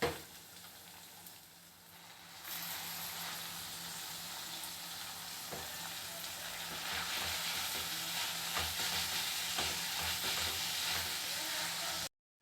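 Fenugreek leaves sizzle steadily in a pan of curry, with a soft, constant frying hiss that grows fuller as the leaves go in and are stirred, and occasional faint scrapes.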